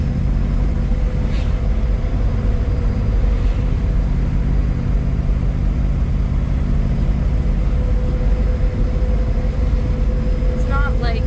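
A classic car's engine rumbles steadily as it pulls up to a roadside rock spot near the Santa Monica Mountains in Malibu, a continuous low drone with no clear revs.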